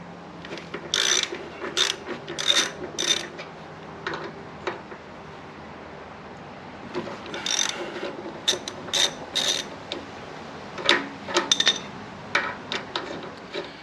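Ratchet wrench clicking as 10mm 12-point bolts are broken loose on a Harley-Davidson touring front brake caliper, two bursts of rapid close metallic ratcheting separated by a short pause, no talk.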